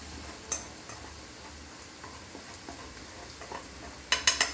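Marinated chicken mixed with salt and turmeric being stirred in a hot pan for a chicken gravy, with a low sizzle and sparse spoon clinks, ending in a few sharp taps on the pan's rim.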